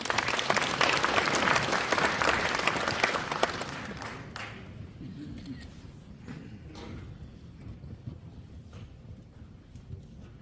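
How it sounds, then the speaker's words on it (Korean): Audience applause at a briefing session on a Korean apartment reconstruction project, loud and dense for about four seconds, then thinning and fading into lighter scattered claps. "큰 박수 부탁드립니다"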